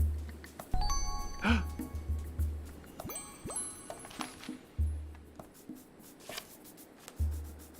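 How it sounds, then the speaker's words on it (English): Small tinkling chimes ring out in the soundtrack of the video game Carto, with bright scattered pings and bell tones over soft, low, pulsing notes, fairly quiet and without voices. "The music is getting louder and more intense, the little chimes."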